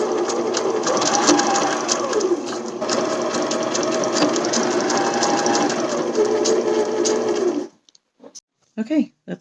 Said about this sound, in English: So now I'm going to go around with a zigzag stitch.